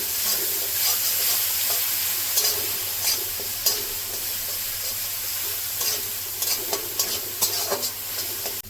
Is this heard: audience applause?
no